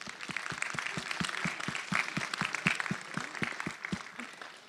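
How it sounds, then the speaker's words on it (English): An audience at a youth entrepreneurship event applauds, a steady, fairly faint patter of many hands with a few distinct rhythmic claps standing out nearer, under light room noise. "Let's all give Dave a round of applause."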